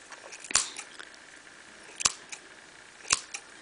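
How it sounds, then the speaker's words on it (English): Scissors cutting through the yarn loops of a handmade pom pom: three crisp, close snips spaced about a second apart, with faint rustling of yarn in a quiet room. "Just cut all the loops."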